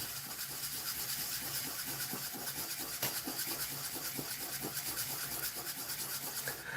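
Wet sandpaper rubs steadily back and forth on a Gaslands model vehicle, a continuous hissing scrape with a quick rhythmic stroke, close and alone without talk.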